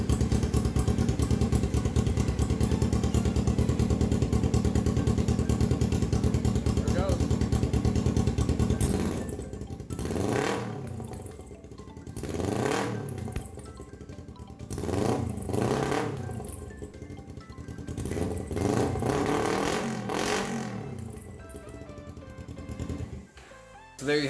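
A 2012 Kawasaki 250 motorcycle engine runs steadily at first, then revs up and down in a series of throttle blips with some clatter, close by.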